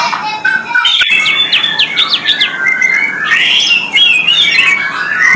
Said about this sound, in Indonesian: Ini kita lihat ada burung murai